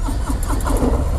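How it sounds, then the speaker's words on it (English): A Harley-Davidson Milwaukee-Eight motorcycle engine on a 2018 Softail cranks and catches, a loud, low rumbling turnover lasting about a second. "start your Milwaukee 8 engines"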